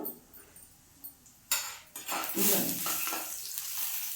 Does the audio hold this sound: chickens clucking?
no